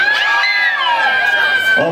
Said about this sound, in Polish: A wszystkie chłopy ryczą.